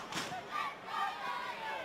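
Football crowd roaring at a men's NPL semi-final between Lions FC and Olympic FC, a broad sustained wash of cheering with a sharp swell near the start and rolling surges throughout.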